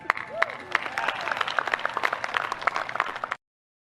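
Scattered clapping and applause from a seated audience at a Navy and Coast Guard address, moderately loud and steady with distinct individual claps, cutting off abruptly before the end.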